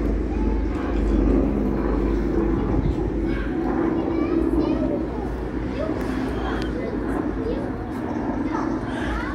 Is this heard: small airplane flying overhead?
yes